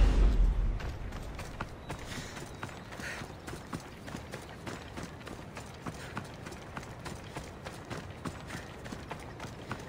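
Horse hooves clop in Assassin's Creed Odyssey, a steady, fairly quiet trotting rhythm of repeated hoof strikes following an opening low rumble.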